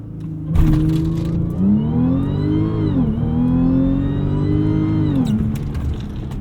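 A 2013 Audi S4 pulls hard from a standstill, its engine note surging and climbing through the revs with a brief dip at a gear change, loud and close from inside the cabin.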